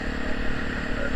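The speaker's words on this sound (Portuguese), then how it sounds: "É um tiro grosso, mano" Honda Tornado motorcycle fitted with a Protork aftermarket exhaust, running close and loud with a dense, steady rumble and rattly clatter throughout, its deep exhaust pops blending into the continuous engine noise.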